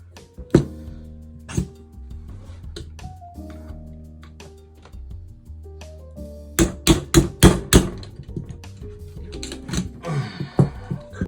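Hammer blows on a pin in a VFC HK416C airsoft rifle, starting as scattered single taps and then a quick run of six or seven sharp, close strikes, with some rattling and handling noise between them.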